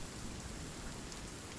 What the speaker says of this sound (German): Jetzt regnet das auch noch.